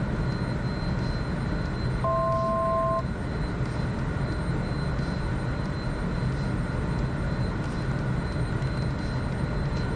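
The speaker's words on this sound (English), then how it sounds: "Boy, this airplane sounds so good" HondaJet jet engines hum steadily in the cockpit in Microsoft Flight Simulator 2024, a constant broadband roar with a faint high whine, and a short two-tone chime sounds near the start.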